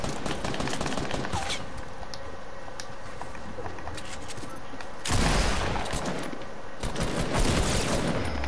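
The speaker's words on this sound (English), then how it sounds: "somebody's shooting" Rapid gunfire rattles in the video game Fortnite, with dense bursts of shooting that grow louder in the second half, while a voice speaks only lightly.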